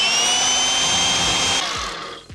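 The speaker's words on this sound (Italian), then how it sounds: "devo tagliare la forca" An angle grinder cutting through a metal dirt-jump mountain bike fork, a loud, close, high-pitched whine with a sustained grinding rasp that holds steady and then spins down near the end.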